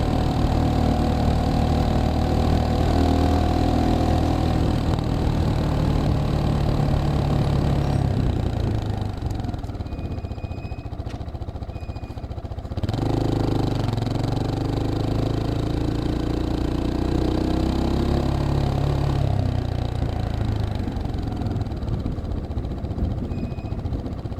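A Geon X-Road light 250 motorcycle idles in city traffic with a steady, close, low engine rumble that dips briefly in the middle before settling back.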